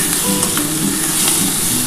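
Onion greens, potato, onion, green chilli and tomato fry loudly in a pan, a dense, continuous close sizzle with brief stirring scrapes.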